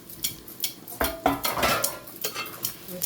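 Chopped tomatoes being stirred in a metal cooking pot, with a spoon scraping and clinking against the sides in several close, uneven strokes that grow busier toward the middle.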